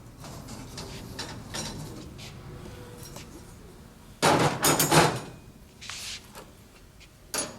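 Metal rattles and clanks as the door is taken off a metal cage trap, with scattered light taps, then a loud burst of clattering metal in the middle and a few sharper knocks near the end, close by.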